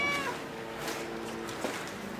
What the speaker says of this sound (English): So she's our perfect dog tester cat.